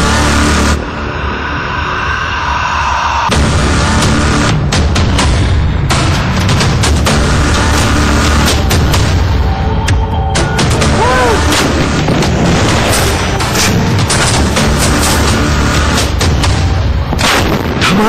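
Bofors artillery guns of the Indian Army fire in a loud, dense sequence of heavy booms and blasts that roll into each other for many seconds, with rumbling echoes and some engine-like noise mixed in.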